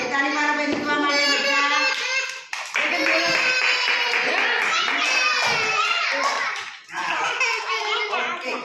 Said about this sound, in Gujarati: તાળી મારો ભાઈ નીકળવા માટે